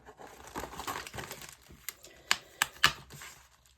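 Paper packaging torn and crinkled open by hand, a run of rustling followed by three sharp, distinct rips near the end, close and fairly quiet.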